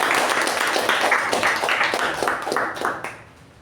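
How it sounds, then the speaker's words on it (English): Applause breaks out for a speaker at a Toastmasters club meeting, many hands clapping in a dense, steady patter that holds close and fairly loud before tapering off near the end. "Can we have a round of applause for the speaker"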